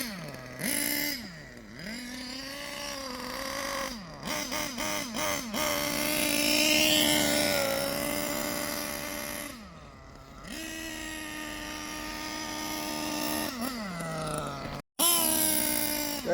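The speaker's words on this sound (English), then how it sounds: "I'm running it nice and rich on that first tank, quarter throttle max." A small nitro engine runs rich at quarter throttle on its first break-in tank, buzzing and droning steadily with rising and falling revs and a few brief cutouts.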